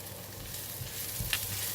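Garlic and chili sizzling in leftover deep-frying oil in a pan, a steady close crackle with a few brief louder pops.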